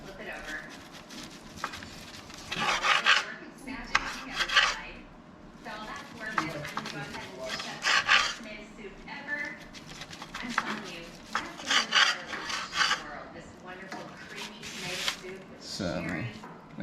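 A knife cuts slices from a prime grade brisket, giving soft repeated scraping and squishing strokes close by, with kitchen clatter and a person talking throughout.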